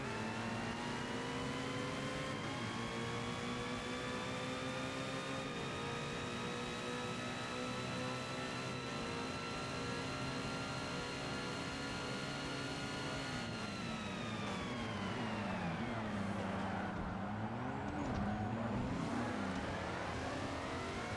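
A car engine in Forza Motorsport held at full throttle through a corner in second gear, a steady loud drone with rising harmonics that sags and dips near the end.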